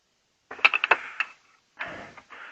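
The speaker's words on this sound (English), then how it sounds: "So I will take these bolts off here." Bolts being loosened and removed from a floor jack during a rebuild, heard as a quick run of close ratchet clicks followed by metallic rattling and handling noise, with no talking.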